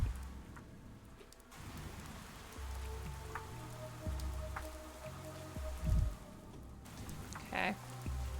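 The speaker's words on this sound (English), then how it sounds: "It's really raining hard." Heavy rain falls in the video game Pathologic 3, a soft, steady patter under low rumbling tones and occasional thuds and bumps.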